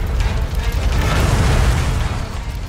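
A metal fire escape collapses during the 1911 Triangle Factory fire in New York, a loud sustained crashing roar with a deep rumble that holds for a few seconds and then eases slightly.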